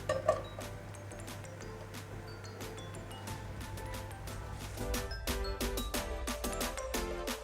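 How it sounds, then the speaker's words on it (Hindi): Raw mango pieces dropped into a pan while making chutney, a string of light clinks and clatters that grows busier toward the end, over a low background hum. "सबसे पहले पैन में हम मैंगो डालेंगे।"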